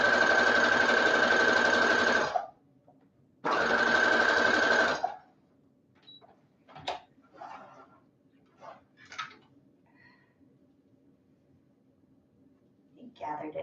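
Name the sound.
sewing machine sewing a basting stitch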